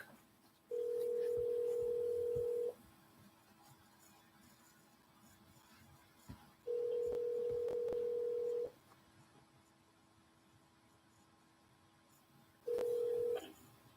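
Telephone ringback tone during an outgoing cold call, three steady single-pitch tones, two long and one cut short, separated by quiet gaps, fairly faint over light line hiss.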